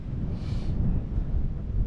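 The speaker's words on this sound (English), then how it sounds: "It's quite windy up here." Strong wind buffets the microphone in a continuous low roar that swells and eases, with no one speaking.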